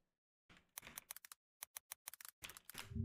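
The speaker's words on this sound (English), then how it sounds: "there's little typing noises when you type in opera" Little typing sound effects from the Opera web browser come as quick, crisp key clicks in short irregular bursts with brief pauses, faint and clear over silence.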